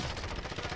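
Gunfire in Warzone, a rapid, steady run of automatic shots that fills a brief moment, moderately loud and sounding close, with no voices.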